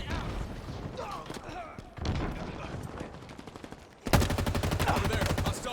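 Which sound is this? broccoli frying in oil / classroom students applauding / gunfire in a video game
gunfire in a video game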